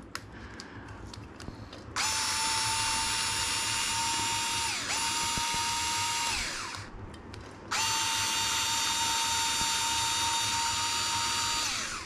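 A power screwdriver whirs in several long bursts, backing screws out of a Wltoys 104001 RC car, with small handling clicks between runs.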